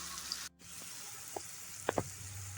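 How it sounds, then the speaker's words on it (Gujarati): Ground spices such as turmeric and coriander-cumin powder cook in oil for a Kathiyawadi tempered rotlo, giving a faint steady sizzle with a few soft stirring knocks of the spoon against the pan. "બરાબર મસાલાને આપણે બે મિનિટ માટે કૂક કરી લઈશું"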